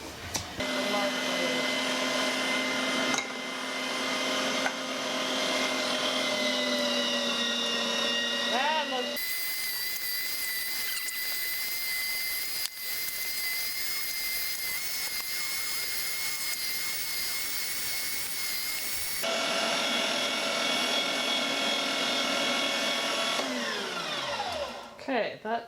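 Electric meat grinder whirring steadily as meat is fed through, its motor pitch shifting between loaded and freer runs over about 25 seconds, loud and close with no talk.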